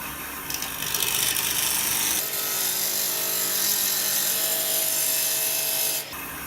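A bandsaw cuts away the shoulder of a wooden tenon, making a loud, steady whirring buzz that holds for several seconds before the blade cuts off abruptly near the end.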